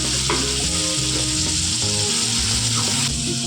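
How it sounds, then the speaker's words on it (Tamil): Steady, dense sizzling of chopped tomatoes sautéing in hot oil, loud and close, with occasional stirring clatter throughout. "ரெண்டு தக்காளி எடுத்து நறுக்கி வச்சுருக்கேன் அதை போட்டு வதக்கிக்கலாம்"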